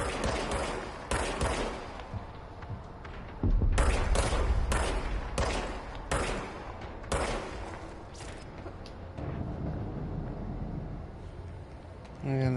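Bursts of gunfire crack out in an SCP video game, several rapid volleys and single shots spaced across the stretch with brief pauses between, loud and close, while a voice talks intermittently over them.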